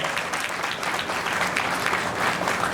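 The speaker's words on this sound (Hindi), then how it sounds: "आप तालियां तो बजा दो उनके लिए।" Audience applause at a religious learning camp gathering, steady dense clapping from a crowd throughout, fairly close and even in loudness.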